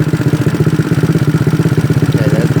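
A GY6 scooter engine with a PWK carburetor runs during fuel screw adjustment, giving a loud, close, steady rhythmic putter at a fast idle with even pulses. There is no talking.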